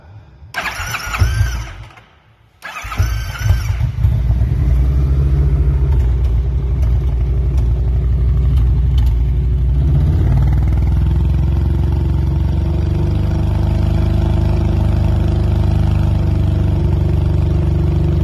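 Kawasaki motorcycle fitted with a loud Sharkroad exhaust baffle, starting with a brief stutter, then holding a steady, loud, raspy rev around 3,000 RPM close to the microphone for a long stretch.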